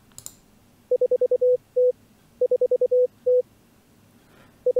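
Simulated numbers-station preamble: a run of short, evenly spaced electronic beeps ending in longer held tones, repeated in groups against a quiet background.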